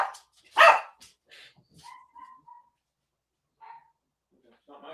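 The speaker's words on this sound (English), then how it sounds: "Why do I hear a dog?" A dog barks outside during an online question-and-answer session, a loud bark near the start followed by a few fainter yips and whimpers, with people talking intermittently around it.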